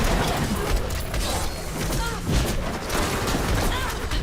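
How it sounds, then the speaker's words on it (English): Rapid multi-shot arrows loose from a legendary bow in Diablo 3, a dense, continuous clatter of impacts and game effects with no pause. "This legendary bow has my multi-shot firing so fast."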